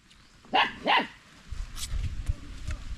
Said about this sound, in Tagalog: Ay, mga aso ko nga.